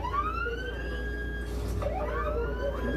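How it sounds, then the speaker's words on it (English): A wailing Long Beach police siren rising and falling during a pursuit, steady and fairly close, over a low vehicle rumble. "so I don't have to listen to this fucking siren anymore"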